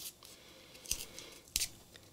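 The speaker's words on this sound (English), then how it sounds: "If I could get my scissors in here without them sticking to the duct tape." Scissors cutting through duct tape, two sharp snipping crunches about two-thirds of a second apart, close and crisp against a quiet background.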